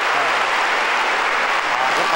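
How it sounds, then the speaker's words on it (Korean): A large studio audience at a Korean TV variety show claps loudly after a comedian's performance. The applause is dense and continuous, holding steady for a couple of seconds. "아, 박수가 크게 나옵니다."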